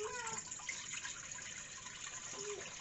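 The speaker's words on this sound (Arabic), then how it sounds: "نديروا الماء ديالنا حتى كيطيب" Water flows steadily into a cooking pot for a dish being boiled, a continuous close hiss and splash with a faint voice murmuring briefly underneath.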